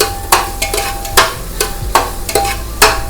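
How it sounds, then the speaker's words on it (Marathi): Onion being sautéed for pav bhaji while a spatula scrapes and knocks against the pan in loud, close, regular strokes about every half second, over a low sizzle, no voices. "आता कांदा घातलेला आहे कांदा पण आता आपल्याला दोन तीन मिनिटं छान परतून घ्यायचंय आहे"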